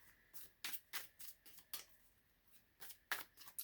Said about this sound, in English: let's do a little bit more shuffling